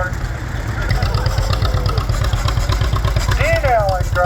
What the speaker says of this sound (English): It's a real pretty 1939 John Deere Model B that Dale restored.